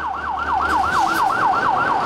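An ambulance siren wails in a fast, steady rising-and-falling cycle, loud and close over a low rumble of road traffic.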